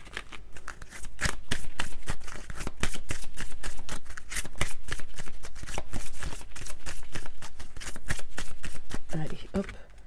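Oracle cards being shuffled by hand, a close, continuous run of rapid riffling and slapping clicks lasting about ten seconds with no pauses.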